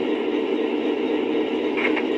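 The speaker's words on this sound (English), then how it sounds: "time to watch the train go by" A steady rumbling hum of a Lionel Legacy Milwaukee Road SD45 model locomotive running past, continuous and fairly close, with a faint rattling near the end.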